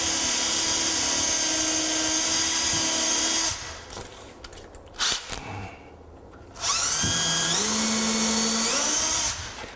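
A power drill drives a screw into wood, whining loudly at a steady pitch, stops briefly with some clunks and handling noise, then spins up again and runs.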